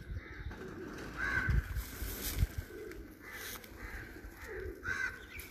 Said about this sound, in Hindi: प्योर मिस से जालदार कबूतर है ये